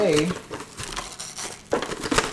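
Generic-brand plastic cling wrap crinkles and tears as it is pulled from the roll, a close, crackly rustle in short bursts with a louder rip near the end, a voice talking over part of it.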